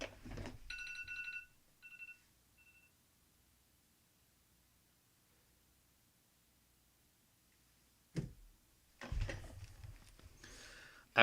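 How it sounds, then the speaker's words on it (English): A phone ringing during a Minecraft superflat hardcore challenge, a few short electronic ring bursts near the start followed by near silence and then some handling noise. "My phone is ringing."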